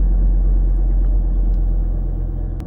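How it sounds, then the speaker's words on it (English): A Chevy Colorado or Silverado pickup engine runs after starting, a steady low rumble and idle close by, loud and unbroken, with a faint click near the end. "Starting the engine now."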